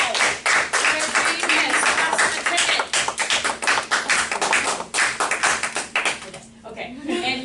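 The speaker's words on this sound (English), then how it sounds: "give him a round of applause" Classroom applause for a student in a math class, quick rhythmic claps from a small group, close and fairly loud, with voices talking over it before it fades out.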